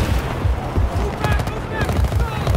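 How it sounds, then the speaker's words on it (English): Rapid gunfire in the Battlefield 4 campaign, bursts of quick shots with booming low thuds over dense game noise, a voice talking in the background. "Let me shoot with the other gun."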